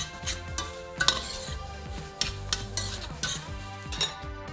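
Leeks go into a pan for a salmon sauce, with a soft sizzle under repeated clanks and scrapes of a utensil stirring against the pan, close and uneven, with no talk.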